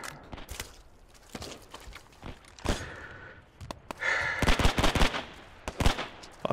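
Gunfire in the World War II shooter game Hell Let Loose comes as scattered sharp shots and short bursts, some near and some distant, loud and irregular with no talk.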